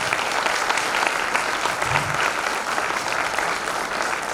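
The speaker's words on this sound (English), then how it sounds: "can we please give the council a huge round of applause?" A school assembly audience claps for the student council in a loud, dense, steady round of applause that fills the whole moment without a break.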